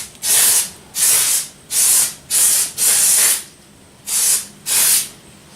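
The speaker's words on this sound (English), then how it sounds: "I'm gonna spray a little bit of brake cleaner on this to clean up the packaging grease and stuff." Brake cleaner sprayed onto a clutch pressure plate in seven sharp, close hissing bursts, each about half a second long, separated by short quiet gaps.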